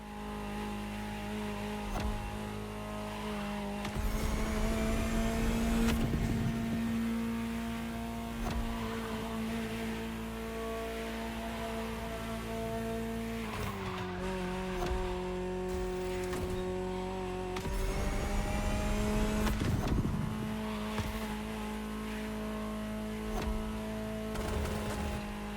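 Ferrari supercar engine in the racing video game The Crew Motorfest, a steady, sustained hum with tonal drone that shifts pitch a few times as revs rise and fall, with louder surges of roaring acceleration in between.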